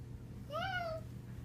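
A child imitates a cat with a single short, quiet meow over faint low background hum.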